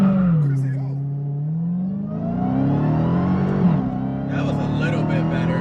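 A 2020 Dodge Charger Hellcat Widebody launches in second gear, its engine droning low and then climbing in pitch as it pulls hard, with a brief dip near a shift before rising again; a voice is heard over it.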